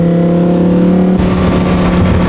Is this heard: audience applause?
no